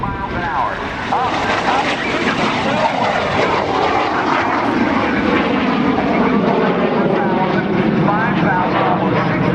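A jet fighter with 5,000 pounds of thrust performs aerobatic rolls and a climb at the NAS Oceana airshow, its loud, sustained engine roar shifting in pitch, with a commentator talking over it.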